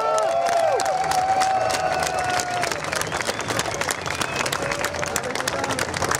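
Crowd applauding at the Hanfparade, an outdoor cannabis legalisation rally in Germany, dense steady clapping with some cheers and whistles, fairly distant and continuous throughout.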